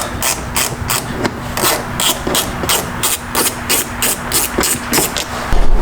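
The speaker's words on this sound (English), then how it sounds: "it's got a ratcheting function, but I can also use my hand to unscrew just in case I don't have room" Rapid ratcheting clicks from a ratcheting screwdriver backing screws out of a subwoofer panel in a BMW M8, a steady run of sharp, evenly spaced ticks close up with a faint low hum underneath.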